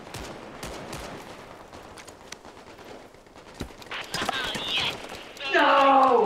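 Gunfire from the VR shooter Medal of Honor: Above & Beyond, a spread of sharp shots and bursts that build toward a dense, loud volley near the end, with excited voices talking over the action.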